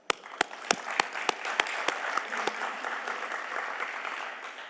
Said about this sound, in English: I think that warrants an applause there.